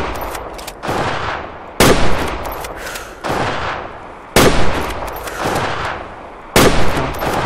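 Loud rifle shots at wild boar in the Transylvania setting of the hunting game Way of the Hunter, with four sharp, close reports spaced a couple of seconds apart, each trailed by a long echoing rumble.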